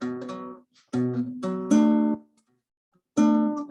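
Guitar notes plucked one at a time in a beginner fingerstyle lesson on a song, several clear ringing plucks in short groups separated by silent gaps, close and solo.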